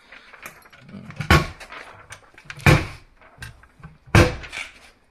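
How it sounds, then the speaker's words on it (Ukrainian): Doors on a used cigarette display case being opened and closed, giving three sharp, loud knocking bangs about a second and a half apart, with lighter rattles and clicks in between. "Дверцята всі працюють ідеально."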